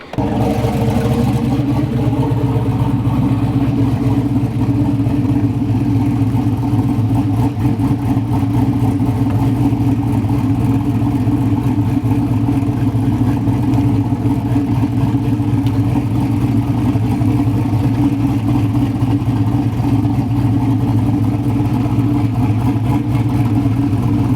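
A race car engine runs with a loud, steady, deep rumble throughout after a brief change near the start, with no talking.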